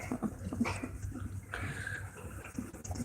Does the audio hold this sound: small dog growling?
yes